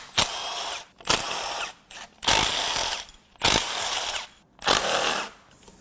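A ratchet tool works bolts out of a failed 2018 Ford F-150 2.7L EcoBoost engine, giving five or six close, loud whirring bursts of about half a second each, separated by short pauses.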